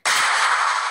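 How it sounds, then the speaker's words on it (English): A multiple rocket launcher fired in Minecraft PE, heard as a single loud burst of blast noise that starts abruptly and holds for about a second with no talk. "So if you fire the multiple rocket launcher,"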